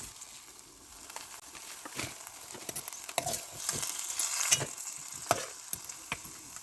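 Methi paneer curry bubbling and sizzling steadily in a pan, with soft crackles, occasional stirring clinks and small pops under a continuous hiss, heard close with no talk.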